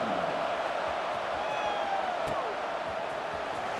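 Stadium crowd noise swells at kickoff in the College Football 26 video game, a steady, dense roar of many fans filling the whole stretch with faint whistle-like tones and a brief sharp hit partway through.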